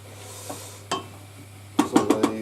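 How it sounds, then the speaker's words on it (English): Leeks are lightly mixed in a pan, heard as a few soft scrapes followed by a quick run of four or five clattering knocks of a utensil against the pan over a low steady hum. "So they've just been mixed together lightly, as you can see there."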